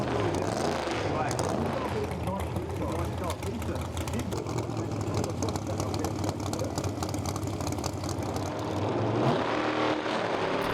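A Pro Mod drag racing car launches at a 2015 British Drag Racing Championship round, a continuous loud engine roar heard at a distance under a commentator's talk, with a shift near the end.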